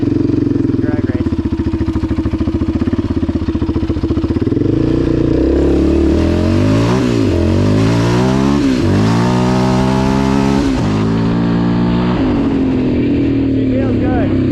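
A 2006 Yamaha Raptor 700 ATV pulls hard in first gear during a drag race, its engine revving loud and rising in pitch, then easing off, with a voice briefly over it.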